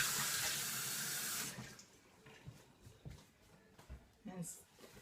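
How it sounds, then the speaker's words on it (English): Hot water pours steadily into a small cup while decorating a rosette cake, a bright rushing stream lasting about a second and a half before stopping, followed by quiet clinks and handling noises nearby. "I'm just going to put it in this little cup here and pour it for hot water."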